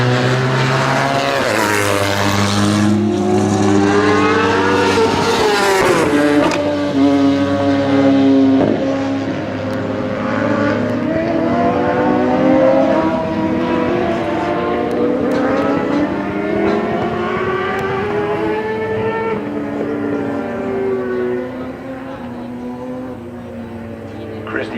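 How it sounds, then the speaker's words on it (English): Honda CBR 1000 superbike racing at Shannonville, its engine note loud and continuous, with rising and falling pitch as the bike shifts through gears, while a commentator speaks over it throughout. "Jodi Christie on the accelerated technologies Honda Canada CBR 1000"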